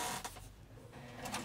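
A sewing machine top stitching a vinyl zipper pouch with variegated thread, running in a steady, quiet, continuous mechanical whir with faint rhythmic ticking for a brief moment.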